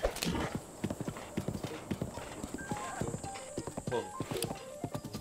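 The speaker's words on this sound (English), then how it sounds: "I can barely control this horse." Horse hooves gallop in The Legend of Zelda: Breath of the Wild, a fast, steady clip-clop rhythm with a brief whinny. Someone briefly speaks over the hoofbeats.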